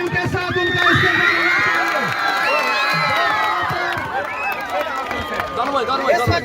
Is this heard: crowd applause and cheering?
yes